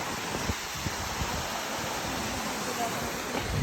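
Steady broadband rushing of falling water at Marottichal waterfall in Kerala during January's lower flow, moderately loud and continuous, with occasional soft knocks and rustles close by.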